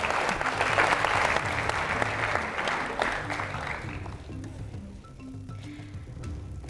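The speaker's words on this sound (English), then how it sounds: "Can we give them a round of applause," Audience at a university quiz competition in Fiji giving a round of applause, dense clapping for about four seconds that then fades out, leaving a quieter room with faint murmurs.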